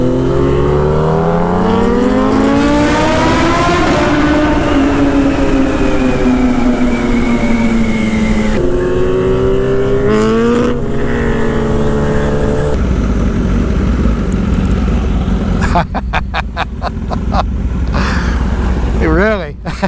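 A 2020 Kawasaki Z H2 motorcycle accelerates hard, its loud engine rising in pitch through several gear shifts with brief drops between them, recorded up close while riding.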